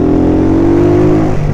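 A motorcycle engine drones loud and steady as a gear is engaged, its pitch holding level and then dipping slightly, close to the listener.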